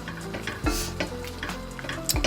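Mustard oil poured over a tomato chutney masala, a quick burst of sizzle with spoon scrapes and light clinks against the pan, close and brief with no voices.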